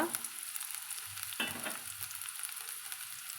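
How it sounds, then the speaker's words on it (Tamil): Dense crackling and popping of mustard seeds spluttering in hot oil, continuous and close, with a brief louder burst partway through. "கடுகு பொரிஞ்சதும்"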